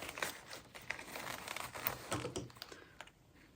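Scissors make tiny snips into the fabric gusset of a sewn cat-shaped bag: a quick irregular run of short, crisp clicks, close up, with a few soft fabric rustles. The snips thin out toward the end, and no one speaks.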